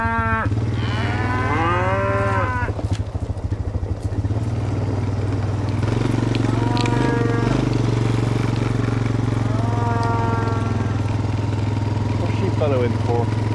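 A cow separated from her calf bellows loudly several times, with long drawn-out moos spaced across the stretch. A steady low engine idle hums underneath throughout.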